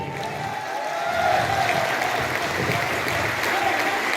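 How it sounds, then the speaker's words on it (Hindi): An auditorium audience at Siri Fort Auditorium applauds to welcome cricketer Suresh Raina, a steady wash of many hands clapping that swells slightly and holds. "लेडीज एंड जेंटलमैन, तालियों से इस्तकबाल करें"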